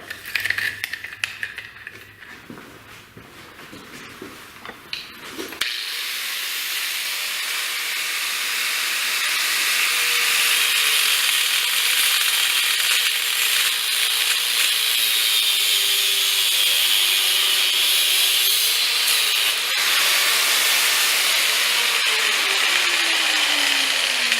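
Threaded rod in a V8 Crossfire engine bay being cut off with a power tool, a loud continuous hissing, grinding whine that starts abruptly after a few seconds of quieter handling noise and runs on steadily.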